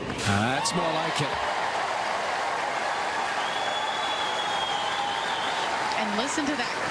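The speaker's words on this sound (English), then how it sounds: "And listen to that crowd, too. They are excited" Tennis crowd cheering and applauding at a WTA Charleston Open match between Collins and Pegula, a sustained roar of applause with whistles and calls, a commentator speaking over it.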